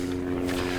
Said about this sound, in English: We have a helicopter flying over.